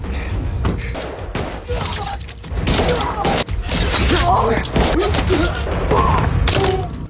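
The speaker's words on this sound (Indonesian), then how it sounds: "Tembakan datang." Dense, loud gunfire with rapid bursts, heavy thuds and crashing impacts running nearly nonstop, with no one talking.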